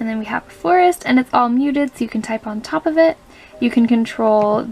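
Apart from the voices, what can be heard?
None of the usual background noises is heard.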